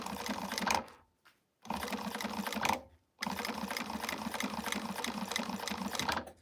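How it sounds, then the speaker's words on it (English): A sewing machine top stitches an eighth of an inch from the raw edge of an Alice wristlet, running in fast rattling bursts with two brief pauses, loud and close. "we're going to top stitch at 1/8 of an inch away from the raw edge"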